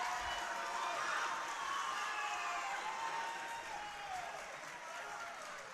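Spectators at a CCS high school basketball championship game cheer and applaud in a dense, continuous roar, with shouts and whistles rising over steady clapping that stays loud throughout, a voice audible in the mix.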